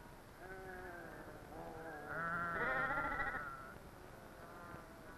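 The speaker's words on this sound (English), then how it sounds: "like my friend Alfredo, have flocks of sheep." Several sheep bleat in overlapping calls in a Mexican village, one louder wavering bleat rising in the middle, others softer and farther off, against a quiet outdoor background.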